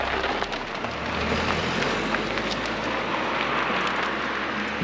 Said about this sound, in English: Unfortunately, just our luck, started raining when we started driving.